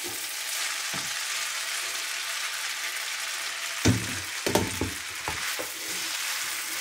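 Spaghetti with chicken and vegetables, cooked Asian style, sizzles steadily in a pan while being stirred, with a cluster of scraping, clacking stir strokes near the middle.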